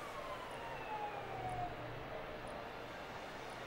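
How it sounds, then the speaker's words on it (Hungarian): An ambulance siren on the Bahrain circuit in the racing game F1 2013, a faint, steady wail drifting in the distance over a low engine hum, with no talk. "Közben itt jön egy mentő."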